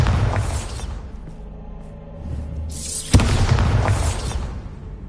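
Bombarda explosion spells in Hogwarts Legacy: a heavy booming burst opens, quiets into a rumbling lull, then a sharp crack sets off a second loud, sustained blast.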